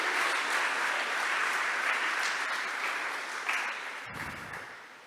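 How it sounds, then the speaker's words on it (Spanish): A church congregation claps for the Lord during a Spanish-language service, a steady crowd of hands clapping at moderate level that thins out toward the end, with a brief low thump near the close. "¿Le puede dar palmas al Señor?"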